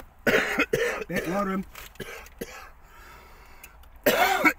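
A person coughs repeatedly while eating a takeaway chicken chow mein with chips, a few harsh bursts broken by short talk, then a louder cough burst at the end.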